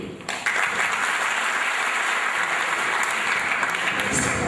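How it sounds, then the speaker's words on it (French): Students at a Polytechnique solidarity day event applaud together in a steady, dense wash of clapping that holds evenly from just after the start to the end, with no voices over it. "vous demander encore une fois d'applaudir"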